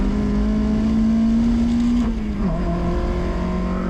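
A 1990s import sports car, an E36 M3 or Miata, drives at full throttle on a race track, with a loud, steady engine drone that holds a constant note before dipping briefly during a gear change, heard from inside the car with no talk.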